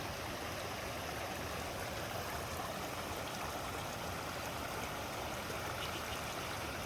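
Spring water flows steadily at a tent villa stay in Paro, Bhutan, a continuous broadband rushing hiss with no breaks, moderately close.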